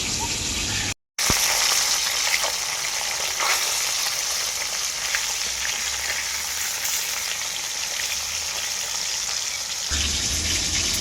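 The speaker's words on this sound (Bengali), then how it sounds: "এখন আমি মাছগুলোকে হালকা করে ভেজে নেব খুব বেশি ভাজবো না এই ভেটকি মাছগুলোকে" Bhetki fish pieces shallow-frying lightly in hot oil for a mustard-poppy seed curry, giving a loud, steady, close sizzle that drops out for a moment near the start and then continues unbroken.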